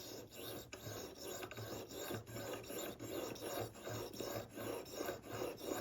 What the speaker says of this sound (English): it takes longer to be able to hone these blades to get it really sharp than what I'm showing here